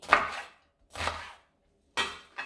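A knife cuts an onion into quarters or eighths: three separate, crisp chops land about a second apart, close and clear, with silence between them and no talking.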